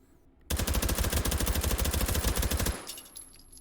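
In the H3VR video game, a suppressed H&K MP5 submachine gun fires one rapid automatic burst of muffled shots lasting about two seconds, then a short fading tail and faint ringing.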